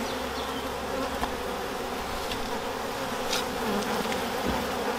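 Honey bees buzz steadily around hives in an apiary, a dense continuous outdoor drone with individual insects flitting close past now and then, no voices.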